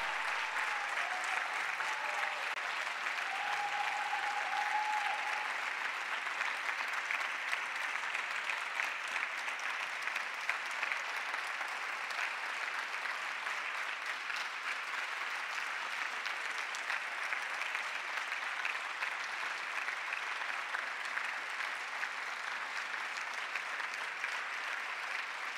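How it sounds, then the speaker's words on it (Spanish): An audience applauds at an honorary doctorate ceremony at Universidad Nacional de San Martín. The clapping is long and steady, an even roar of many hands that holds for nearly half a minute without stopping. "Muy fuerte aplauso, por favor."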